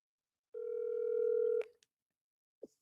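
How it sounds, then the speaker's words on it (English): A steady telephone dial tone sounds for about a second while a call is placed, then cuts off, followed by a faint click and a short beep, with no talking. "Let me call Rain"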